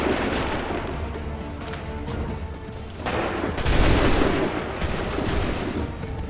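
Musket volleys crack out in the Assassin's Creed 3 video game during the Lexington and Concord battle, with scattered shots and a heavier burst midway over a steady battlefield din.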